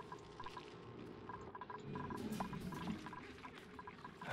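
In the colony game Oxygen Not Included, duplicants fill water, heard as a soft continuous pouring trickle under faint in-game tones, quiet and steady.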